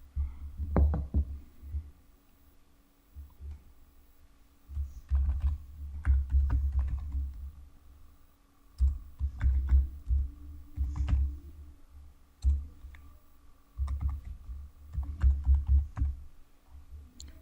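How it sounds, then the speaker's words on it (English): Someone types a command on a computer keyboard in uneven bursts of key clicks separated by pauses, with low thumping keystrokes, close and alone without talk. "Now here again type this command"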